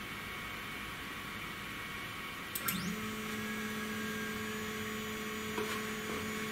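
A budget 3018 CNC router engraver drives its axis 100 millimeters, a steady stepper-motor whine starting after a brief clunk and holding an even pitch over constant background hum.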